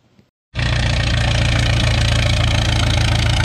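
A vintage farm tractor at a tractor pull roars to life after near silence, its engine holding a loud, steady, rumbling drone for the rest of the stretch.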